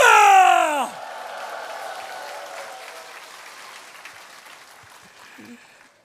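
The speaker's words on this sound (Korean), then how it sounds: "그 하나님께 영광의 박수, 함성과 함께 박수" A loud shout tails off into a church revival congregation clapping and cheering, the applause gradually fading over several seconds.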